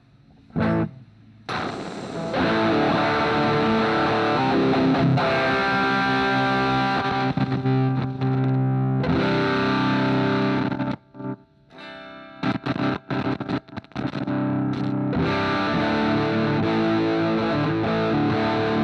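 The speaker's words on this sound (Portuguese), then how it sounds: "Agora eu vou ligar a protoboard para vocês verem como está a distorção do pedal." A guitar played through an overdrive pedal built on a breadboard prototype, with loud, thick, sustained distorted chords and notes ringing steadily, broken by a few short choppy stops before the sound resumes.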